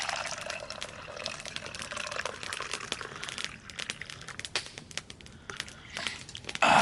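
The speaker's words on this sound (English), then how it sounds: "let's pour it and taste it out" Homemade pine needle tea is poured outdoors at a natural shelter with a fire burning nearby. A thin continuous trickle of liquid runs with light crinkling and crackling mixed in.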